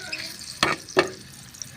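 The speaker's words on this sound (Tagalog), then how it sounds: "Gigisa ko lang yung luya." Two sharp sizzling bursts as ginger is sautéed in a hot pan for a mung bean dish, each stir flaring loudly and then dying back, with low kitchen noise and a few small clicks between them.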